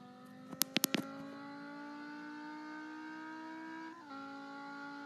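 A Dodge SRT Viper ACR engine in the Assoluto Racing video game holds a quiet, steady drone after a few sharp clicks near the start, with a brief dip in tone partway through.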